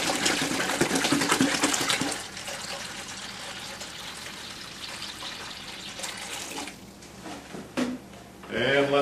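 A gallon of water pours steadily into a bucket for about two seconds, then continues more softly for several seconds, followed by a few light knocks and clatters near the end.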